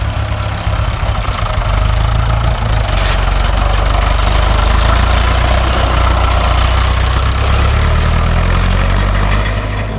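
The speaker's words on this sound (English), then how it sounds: "I'm just gonna let this tractor go" A tractor engine thrums loud and close on an off-road trail, a steady heavy low drone with a knocking chug holding for the full stretch.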